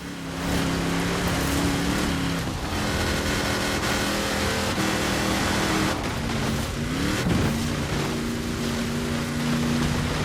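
A 6x6 off-road truck built for the Australian Army, driven in Forza Horizon 4, its engine droning loudly and steadily with gear-change dips in pitch, heard alone at close range.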